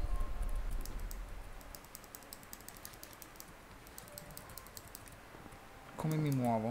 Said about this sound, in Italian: non sono abituato a giocare sulla tastiera